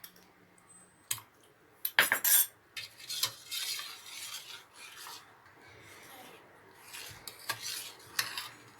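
A spoon scrapes and rasps against a metal pot as curdling milk is stirred for rasmalai, irregular close scraping strokes with occasional sharper clinks, with no talking.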